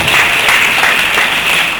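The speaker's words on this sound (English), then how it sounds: "Give a big round of applause to Jyotika." An audience at a student entrepreneur summit in a hall applauds loudly and continuously, dense clapping that fills the room.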